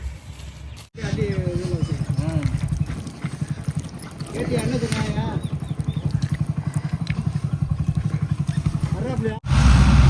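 A paddy harvesting vehicle arrives at a rice field, its engine a steady, close rhythmic chugging running through most of the stretch, with people talking over it.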